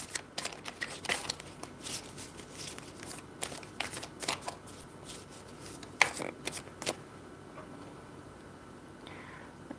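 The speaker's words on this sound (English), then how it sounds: "I'm going to pull cards" Tarot cards shuffled by hand for a reading, a steady run of crisp riffling flicks and soft slaps, close and fairly quiet, with no talking.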